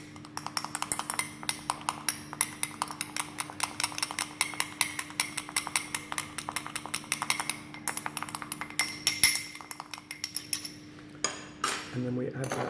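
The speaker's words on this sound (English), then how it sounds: "Give that a mix." Flour and baking powder stirred in a small bowl with a metal utensil, producing a quick run of close, rhythmic clinks and scrapes against the bowl, tapering into a few scattered knocks near the end.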